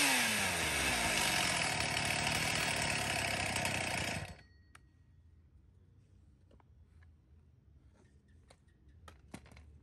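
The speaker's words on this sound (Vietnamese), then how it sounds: "cửa hàng chúng em xin phép giật test nổ cho các bác nghe tiếng máy" A Stihl chainsaw, sold for acacia logging, roars loud and close for about four seconds, then cuts off abruptly, leaving a quiet background with a few faint clicks and taps.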